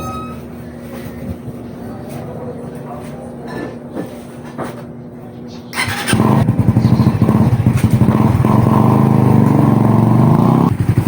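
A Raider FI 150 motorcycle engine is started after a new clutch cable adjustment, then runs close by as a loud steady chugging idle for the last five seconds, following a quieter stretch of background noise and faint talk.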